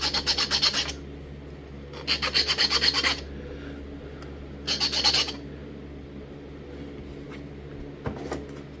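A novaculite stone point being sharpened by flintknapping gives three bursts of close, harsh rasping abrasion, each about a second long with short pauses between, then a few faint clicks.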